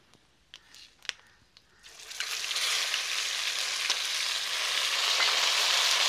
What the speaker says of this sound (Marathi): यात पण आलं लसूण मिरचीचा कच्चापणा जाईपर्यंत परतून घेऊ.